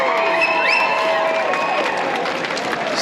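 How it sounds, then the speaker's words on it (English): A convention crowd cheers and claps at a costuming talk at MCM London, a continuous wash of applause with whistles and shouts rising early, then easing slightly toward the end. "Give him a big cheer."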